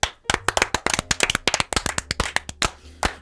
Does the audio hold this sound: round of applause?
yes